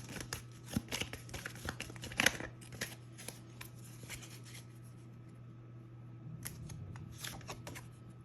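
Tarot cards being shuffled and handled, a run of soft crisp riffles and taps, quiet and close, with brief pauses between bursts.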